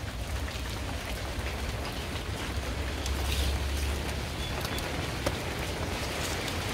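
Steady rain falling outdoors, a dense continuous patter on surfaces that stays even and moderately loud throughout, with no talking.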